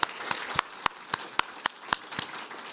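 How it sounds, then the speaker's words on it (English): A small audience at a faculty presentation with Liz Collins and Deborah Taffa claps. Scattered, sparse hand claps sound out as distinct sharp pops over a thin background wash instead of a full roar. "Big round of applause for Liz Collins and Deborah Taffa"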